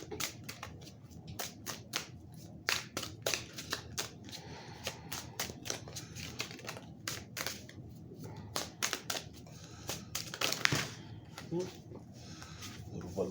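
Tarot cards being handled, shuffled and pulled from the deck in a quick series of crisp, close flicks and snaps, fairly quiet, with a voice talking alongside.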